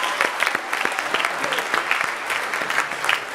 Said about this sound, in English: How about a nice round of applause for Zach for emceeing tonight?